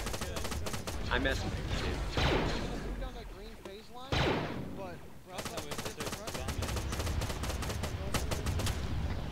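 Pistol fire in a Star Wars video game, with rapid bursts of sharp shots and blaster-like reports in quick repeated volleys, loud and near, while players talk over it.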